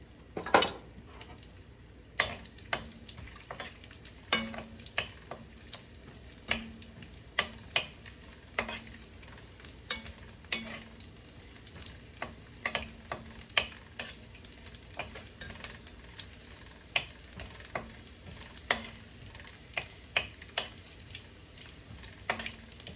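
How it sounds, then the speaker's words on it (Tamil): Garlic frying in oil with mustard seeds and two kinds of cumin gives a steady low sizzle, broken by regular sharp taps and crackles from a spoon or popping seeds, close and alone. "பூண்டு வதங்கட்டும்."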